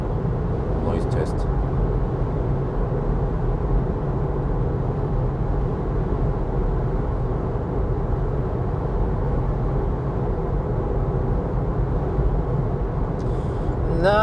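Road and tire noise inside a moving 2022 Kia Niro EV 64 kWh, a steady low rumble and hiss filling the cabin, with brief faint chimes near the start and end.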